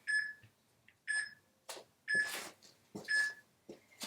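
A workout timer beeps in a steady rhythm, one short high electronic beep about every second, with soft rustling and footsteps between the beeps.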